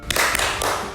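Classroom of students performing the 'tepuk fokus' clap chant, a burst of loud, fairly synchronized hand claps in quick succession, close and filling the short moment.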